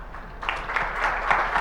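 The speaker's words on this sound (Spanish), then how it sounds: "un aplauso de todo este auditorio" An auditorium audience claps for a guest at a philanthropy discussion event, a short burst of mixed, moderately loud applause building after a quiet start.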